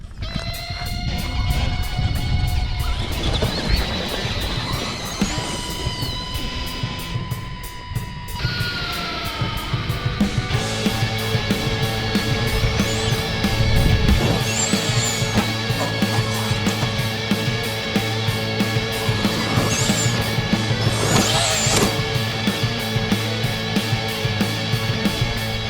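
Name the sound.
Axial SMT10 Gravedigger RC monster truck driving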